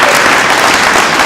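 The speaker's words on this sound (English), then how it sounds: "let's give her a massive round of applause to come up and accept her first prize trophy" An audience applauds the first-prize winner of a composers' competition at a live reception, steady dense clapping filling the room without a break.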